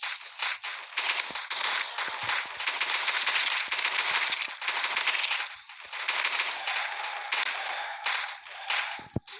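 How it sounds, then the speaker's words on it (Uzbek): A machine gun fires long, rapid automatic bursts in the Roblox zombie game, loud and close, with a few brief gaps between strings of shots. "O, pulemyot oldim."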